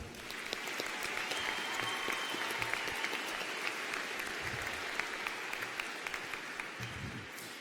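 Steady applause fills a large hall at a high school graduation ceremony, a dense even wash of many hands clapping, distant and sustained throughout.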